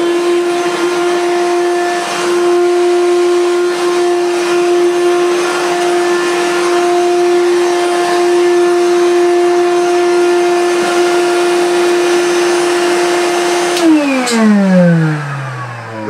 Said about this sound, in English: the very vibrating Hoover Celebrity